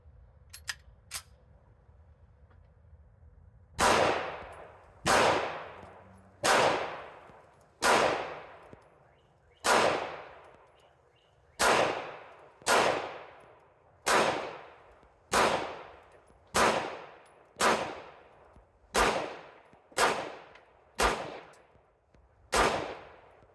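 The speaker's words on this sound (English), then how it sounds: "I'm just shooting these plastic targets on the ground that bounce around." Girsan MC P35 pistol, a Browning Hi Power clone, fired at plastic targets bouncing on the ground outdoors: after a few faint clicks, fourteen loud sharp shots in a steady, evenly spaced rhythm, each with a brief ringing decay.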